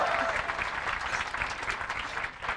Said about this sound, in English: I always try to get a round of applause for John